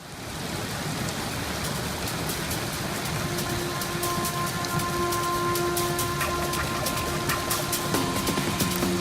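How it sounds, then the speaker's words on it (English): Steady rain falling outdoors in windy weather beside a lake while fishing, a continuous even patter on surfaces with no voices, moderately quiet and unbroken. "Pretty windy and raining outside."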